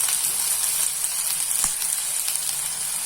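Thalipeeth, a Maharashtrian multigrain flatbread, roasts on a hot pan with a steady, close hiss of sizzling and a single sharp pop partway through, heard alone without any voices.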